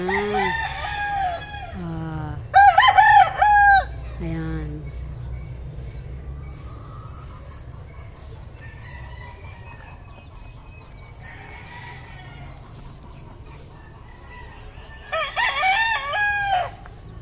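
Roosters crow loudly a few times in separate bursts, with softer clucking and faint bird calls in between over a quiet outdoor background.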